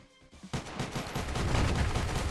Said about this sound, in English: Nukie's seemingly having a really hard time shooting someone who moves that fast with that much armor